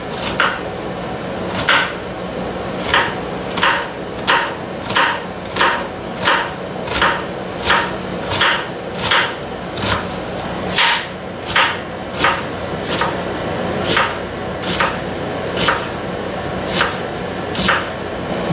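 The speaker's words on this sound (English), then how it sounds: "we're going to have to start chopping up the onion and the parsley as finely as possible" A freshly sharpened knife chops onion and parsley finely on a board, giving steady, evenly spaced sharp knocks roughly twice a second, close and clear, with no talking.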